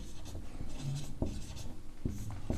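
A pen writes out a geometry solution on paper during a maths lesson, producing quiet, close scratching strokes and a few light taps against a soft background hum.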